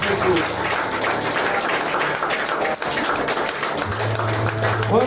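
Church congregation applauding during a service in Japan, a steady dense wash of clapping that lasts throughout, with a low sustained tone entering in the final seconds.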